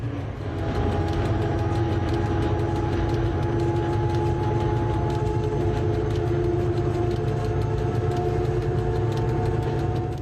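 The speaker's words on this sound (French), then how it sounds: "le train va retrouver la plaine et reprendre de la vitesse" A train picking up speed across the plain after a short tunnel in northern Morocco, a steady loud rumble of wheels and engine with sustained tonal hum and faint rhythmic clicks.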